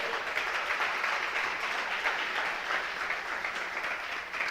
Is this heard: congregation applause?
yes